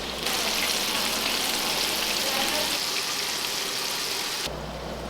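Small cut pieces of trout frying in hot oil, giving a loud, dense, continuous sizzle and crackle close by that holds steady throughout and eases slightly at the end.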